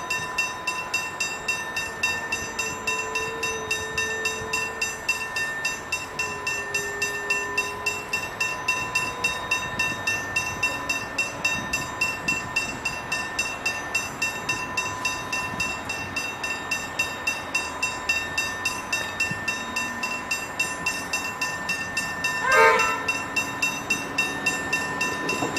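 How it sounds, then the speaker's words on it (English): A Metro suburban train approaches the Aviation Road level crossing in Laverton, Victoria, under a steady rhythmic clanging of crossing bells, with the train's rumble building and a short horn blast near the end. "now the metro train's coming up from West Tona."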